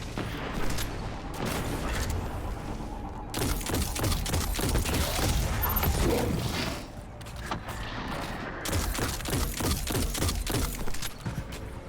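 Rocket fired at a Minotaur shield in Destiny 2, a Platinum Master Nightfall run in the Inverted Spire, amid dense rapid gunfire, booming blasts and heavy impacts that go on almost without a break.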